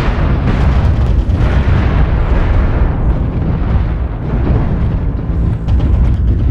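Continuous heavy explosions and rumbling blasts from incoming missile strikes in the JM6-A combat game, loud and dense throughout with no pauses.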